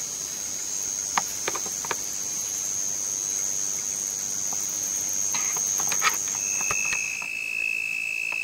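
A cricket trills in a steady, high, piercing tone for several seconds, then shifts to a lower pitch, with faint rustling and ticks around it.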